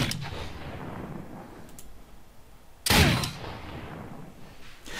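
Revolver shots in the zombie game Dead State, a few sharp cracks with one loud blast standing out and a fading tail after each, over a quiet game background.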